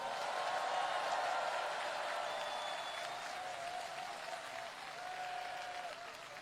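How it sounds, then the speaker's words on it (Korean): A large crowd at an outdoor political campaign rally in Asan applauds steadily, with dense, sustained clapping that fades slightly toward the end and a few faint shouts rising above it. "격려의 박수 부탁드립니다"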